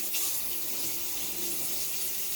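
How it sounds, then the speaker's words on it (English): A kitchen tap runs steadily into the sink as a colander is rinsed, giving a close, continuous hiss of flowing water with no talk. "So I'm rinsing out the colander and the sink."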